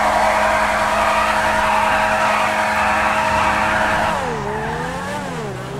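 The Grotti X80 Proto sports car in GTA V Online gives a loud, sustained high-revving engine drone with tire squeal, then the pitch drops and rises through gear shifts near the end, with no talking.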